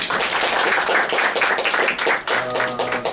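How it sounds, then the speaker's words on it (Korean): A room full of people at an academic lecture claps in steady applause for the presenter, dense and continuous, with a voice rising briefly near the end. "다시 한번 박수 부탁드립니다"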